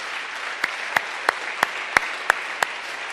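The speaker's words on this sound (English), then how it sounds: "This is where you applaud." Sparse, evenly spaced hand claps, about seven in three seconds, from the audience at a talk on big data and journalism, sharp and fairly close over a faint room hiss.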